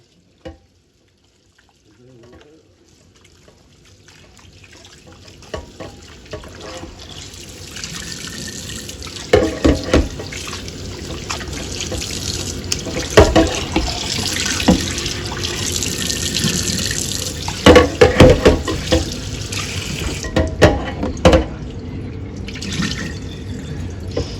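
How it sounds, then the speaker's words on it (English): Ingredients for cubed steak and potatoes are rinsed under a running kitchen tap, a steady splashing stream into the sink with irregular louder splashes and clunks as items are handled, close by, no talk. "I'm going to rinse these off."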